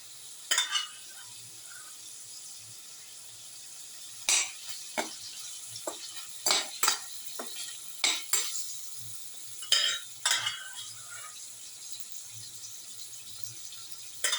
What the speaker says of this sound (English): Now put in the beef pieces.